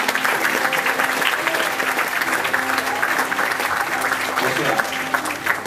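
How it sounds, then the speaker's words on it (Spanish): Audience applause for the performers Magali and Luque, a dense, steady wash of clapping from a crowd that holds at full level for the whole stretch, with faint voices mixed underneath. "Magali y Luque, un aplauso para ellos."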